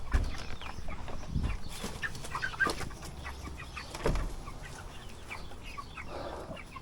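Meat chickens clucking in their pen at watering time, a steady low murmur of many birds with scattered louder clucks, fairly close.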